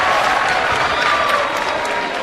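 Windsor home crowd at a high school basketball game against Cardinal Newman cheering and applauding, a dense, steady roar of clapping and shouting from a packed gym that holds loud throughout.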